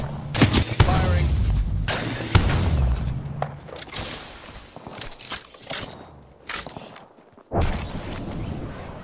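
Bursts of video game gunfire crack out loudly in the opening seconds, with scattered footsteps and smaller impacts following under a steady game soundscape; a voice speaks over parts of it.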